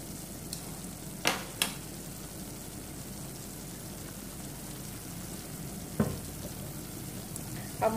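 Japanese katuk leaf soup cooking in an uncovered pot, giving a steady soft simmering hiss throughout with a few brief clinks and stirring knocks; no talk.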